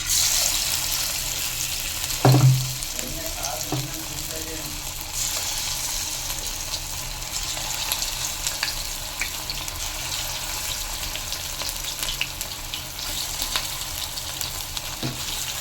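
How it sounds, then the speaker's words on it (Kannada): Chicken kebab pieces frying in hot oil, a continuous close sizzle with a brief louder clatter early on and scattered crackles, with faint talk underneath. "ಇವಾಗ ಕಬಾಬ್ ಮಾಡೋಣ. ಇವಾಗ ಎಣ್ಣೆ ಕಾದಿದೆ."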